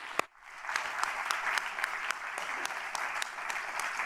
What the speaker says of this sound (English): give her a massive round of applause and thank you